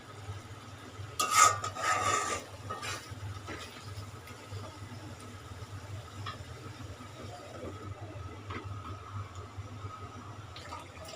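A spoon stirs ridge gourd curry in a pot, a short soft scraping swirl close by, followed by quiet simmering over a low steady kitchen hum.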